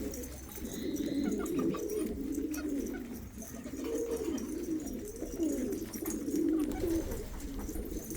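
Pigeons of the Arab breed coo steadily in a loft, a soft, repeated rolling coo close by over a faint background hum, with no talk.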